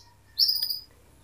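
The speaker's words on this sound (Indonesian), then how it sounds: "Ini ada burung trotolan saya." A single bright chirp from a pet trotol bird, a short rising call lasting about half a second, fairly close and alone against a quiet indoor background.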